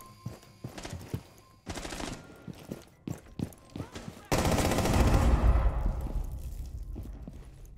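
Video game gunfire: several single shots crack through the first few seconds, then a dense, loud burst of sustained automatic fire takes over, close and rapid, with some faint talk underneath.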